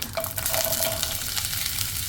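Chopped green beans frying in a pan with mustard seeds and curry leaves, a loud, dense crackling sizzle right after they go in, with stirring clatter and no voices.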